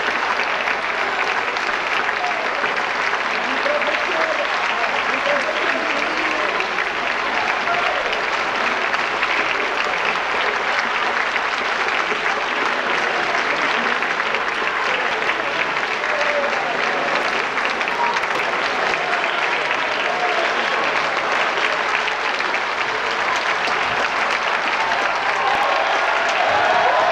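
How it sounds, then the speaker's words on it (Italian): Audience applause at an Italian commemorative event with students, sustained warm clapping from a large crowd that holds steady for the whole stretch, with some faint voices mixed in. "già l'avete fatto con un caloroso applauso"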